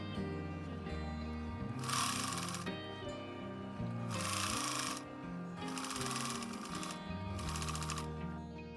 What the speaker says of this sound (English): the teeth of your sewing machine will ease in the seam allowance as you sew